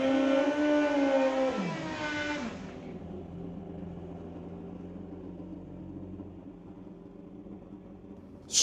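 A 2007 Hellfire Racing Yamaha drag-racing motorcycle at a strip event, its engine loud and close in a rising, revving whine for about two seconds before dropping to a steady, lower rumble that holds to the end.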